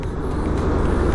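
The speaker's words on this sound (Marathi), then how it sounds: "कारण का एवढे ट्रक आहेत, जेवढे ट्रक रात्री पण एवढे ट्रक नसतात त्या रोडला" Heavy truck traffic on a highway near a state-border checkpoint. A loud, close, continuous low engine and tire rumble with no talking.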